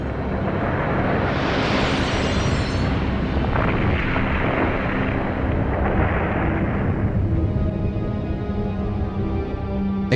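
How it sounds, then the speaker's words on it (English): A huge asteroid impact explosion roars as a loud, continuous rumbling blast that swells and churns for several seconds with no voices. "A 100 million megaton explosion vaporizes New York City."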